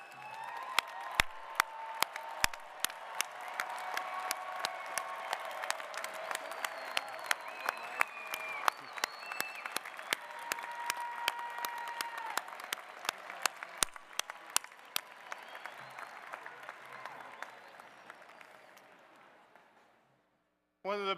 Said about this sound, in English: One of the best parts of this day is to see and hear your family cheer for you